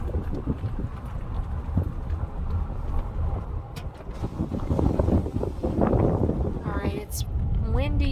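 Wind gusting at a lakeside campground, a steady rushing buffet across the microphone that swells and eases, with a voice speaking over it near the end.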